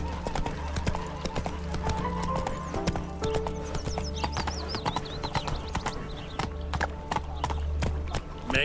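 Roach the horse gallops in The Witcher 3, hooves clip-clopping in a fast, steady, loud rhythm under a low game soundscape, with a brief whinny.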